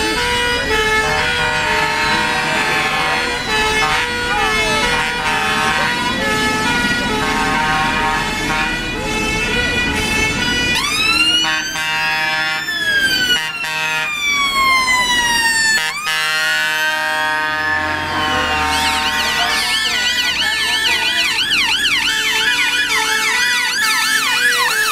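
A fire engine leaving its station with a loud wailing siren that sweeps up and down close by, joined by a second siren pattern partway through, over engine rumble.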